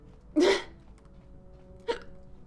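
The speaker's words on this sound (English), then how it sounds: "given me incurable hiccups." Two sharp, voiced hiccups from a character in the video game Knights of the Old Republic (KOTOR), the first loud and the second shorter and fainter, about one and a half seconds apart, with no talk.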